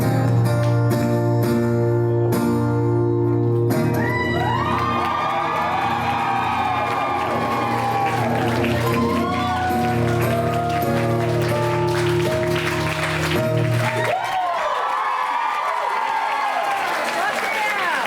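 Concert crowd at a live show in Tampa cheering and whooping loudly over sustained band music, with shouts rising throughout and a fresh swell of cheers near the end.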